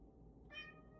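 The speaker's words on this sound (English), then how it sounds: "That's my cat Panther." A domestic cat lets out a single short, clear meow up close in a quiet room, over faint background hum.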